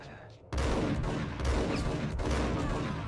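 Rapid gunfire from the Max Payne video game erupts after a brief quiet start, a dense volley of overlapping shots and booms that stays loud and continuous to the end, with no talking over it.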